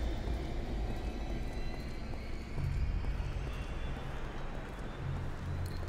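A battered, damaged helicopter idles in the game RAGE, its engine giving a steady low rumble and drone with a rhythmic chopping pulse, fairly close and continuous, with no voices.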